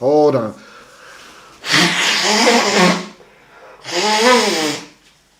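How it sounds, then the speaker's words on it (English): Nose blowing indoors: a short nasal snort, then two longer, loud honking blows through a tissue separated by quiet pauses. "I gotta blow my nose real quick"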